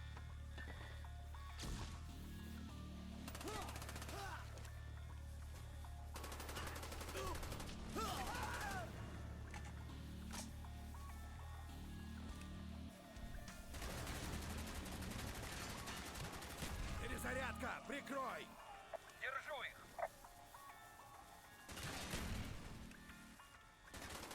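Machine gun fire in Call of Duty: Black Ops, with repeated bursts of loud automatic gunfire and crashing impacts throughout, sometimes clustered and sometimes spaced apart, mixed with game effects.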